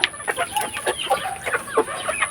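Free-ranging backyard chickens cluck and squawk in quick, overlapping calls, close by and fairly loud over a steady background hiss, with no one speaking.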